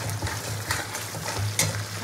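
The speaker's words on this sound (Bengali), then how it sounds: "মশলাটাকে নাড়াচাড়া করে কষিয়ে নেবো ভালো করে।" Poppy seed spice paste sautéing in oil, a continuous soft sizzle with a few light stirring scrapes, close and fairly quiet with no talking.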